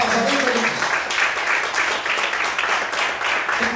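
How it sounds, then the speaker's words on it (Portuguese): A church congregation applauds during a worship service, a dense, steady wash of many hands clapping, loud and sustained throughout. "Você pode aplaudir e exaltar o Senhor nessa noite. Aleluia. Mais forte as palmas, amém, queridos?"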